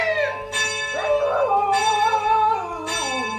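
Dogs howl in long wavering cries while a church bell keeps ringing for Sunday service, its strikes landing about every second and a half.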